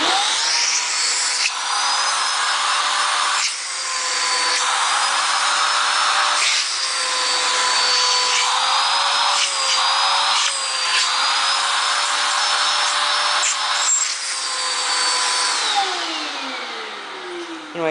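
Eureka Rally 2 canister vacuum cleaner running continuously, a loud, high-pitched motor whine with airflow hiss whose pitch dips and shifts as suction changes, ending as the motor winds down.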